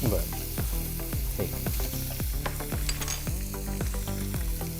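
Onions sautéing in oil in a pan, a loud close crackling sizzle with a rapid, rhythmic series of scraping stirs throughout and no voices.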